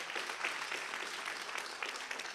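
Audience in a university hall applauding students, a steady, fairly soft patter of many hands clapping at a moderate distance, continuing evenly throughout.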